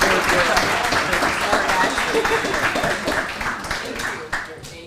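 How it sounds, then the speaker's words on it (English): Steady applause from a symposium audience for a panel of policymakers, dense clapping filling the whole stretch at a fairly even level and tapering slightly toward the end. "please give our panelists a round of applause"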